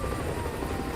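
A helicopter in Call of Duty Modern Warfare II, its rotor thrumming steadily and close in a brief, unbroken burst.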